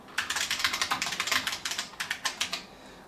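Rapid, crisp clicky keystrokes from a portable computer's Model F keyboard with a lightweight plastic chassis, close and steady, with brief pauses between bursts and no talking.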